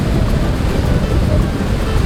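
Surf breaking on a white-sand shoreline at sunset, a steady low roar of waves with wind rush across the microphone, loud and continuous throughout with no pauses.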